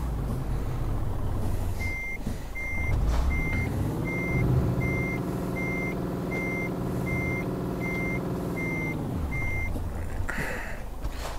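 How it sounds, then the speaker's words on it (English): A MAN truck in Euro Truck Simulator 2 backs up with its engine droning steadily, while a reversing alarm beeps in an even, regular rhythm over the rumble for most of the stretch. "It's just got that nice truck sound to it."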